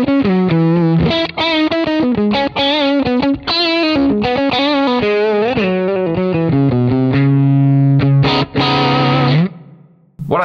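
Electric guitar driven through a BOSS OD-20 overdrive pedal set to its full drive mode, played as a loud, saturated run of sustained notes and bends that ends on a long held note fading out.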